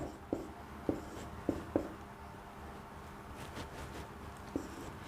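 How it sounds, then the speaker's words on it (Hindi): Chalk or marker on a board during a maths lesson, a handful of faint, separate taps and short scratchy strokes against a quiet room. "इसको हम यहाँ लिख देते हैं।"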